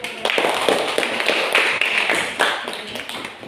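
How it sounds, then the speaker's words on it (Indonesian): A classroom of students applauds a presenting group, a brisk, continuous rattle of many hands clapping close by, with slight swells and no talking over it. "kita tepuk tangan dulu"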